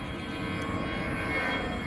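An airplane passes overhead on a cloudy morning in the countryside, a steady distant rumbling drone that holds evenly throughout with no voices.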